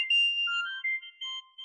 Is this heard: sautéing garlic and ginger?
no